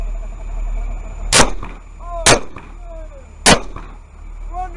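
Test firing of weapons at a military base in Ghazni, Afghanistan: three sharp, loud gunshots spaced about a second apart over a steady engine rumble, with faint voices in the background.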